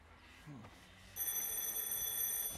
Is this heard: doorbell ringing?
yes